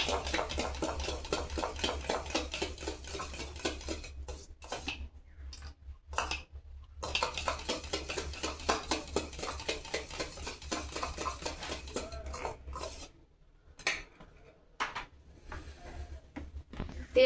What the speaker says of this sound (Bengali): টক দইটা একটু ফেটিয়ে নিই।